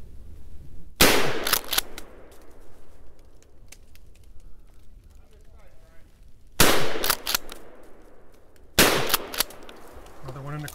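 Three loud shotgun blasts from a 20 gauge fired at a squirrel in the woods. Each is sharp with a long echoing decay, the last two close together. Faint background rustle fills the gaps.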